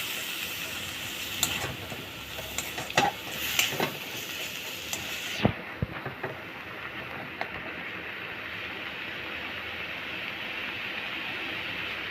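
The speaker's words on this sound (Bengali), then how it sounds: "দেখুন এভাবে নেড়ে চেড়ে পাতাটাকে আমি ভালো করে ভেজে নিচ্ছি" Mustard leaves being stirred and fried in a pan make a constant sizzling hiss, broken by scattered scraping clicks from the stirring, which then settles into a quieter, even fry.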